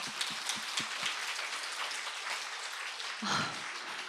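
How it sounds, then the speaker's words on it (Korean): Seminar audience of parents giving a round of applause, a dense steady patter of clapping with a few sharper claps at the start, moderately distant and fairly quiet. "우리 복된 서로를 위해서 좀 축복의 박수 한번"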